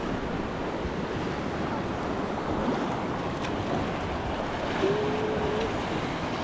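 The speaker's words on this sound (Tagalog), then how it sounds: "Malaki na pala kayong alon." Big ocean waves roll and wash in a steady, roaring surf mixed with wind buffeting the microphone at a shore where fishermen handle a net.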